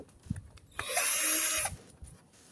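A power tool whirs in one steady, close burst of about a second as it backs bolts out of a Traxxas X-Maxx RC truck body shell, with quiet handling noises before and after.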